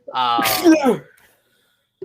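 A single loud, close sneeze bursts out, then a brief quiet pause and a tiny click, during a sports talk show discussion.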